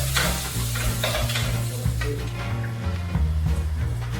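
Dried red chillies and mustard seeds sizzle and crackle in hot olive oil, a steady close frying hiss broken by stirring scrapes, with no voices.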